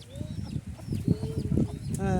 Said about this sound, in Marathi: हे पूर्ण कोंबड्याचं शेड आहे को को को हा बा त्यांची पिल्लं आहे